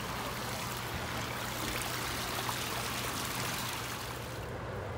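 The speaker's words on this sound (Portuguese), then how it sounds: "Aí essa água passa por aqui, tá vendo que é a ponte, olha, uma pontinha de madeira, aí sai aqui" Water runs beneath a small wooden footbridge in a garden, a steady close rushing babble with no breaks and no voices.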